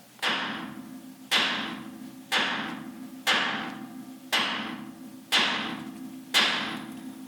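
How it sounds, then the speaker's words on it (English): A hammer strikes a rusted tie rod nut on a vehicle's steering linkage, seven sharp metallic blows at an even pace about a second apart, each ringing briefly and close by. "What you can try to do is smack it here, and sometimes it'll pop loose."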